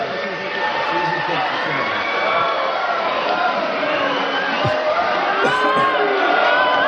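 Audience at a stripping performance claps and cheers in a steady, dense crowd roar with scattered whoops, continuous throughout.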